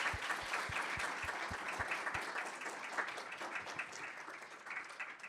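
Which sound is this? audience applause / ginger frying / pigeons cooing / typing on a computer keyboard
audience applause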